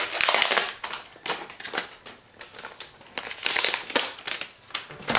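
Tear tab being pulled open on iPhone X box packaging: a close, crackly run of crinkling, tearing bursts with short gaps, no voices.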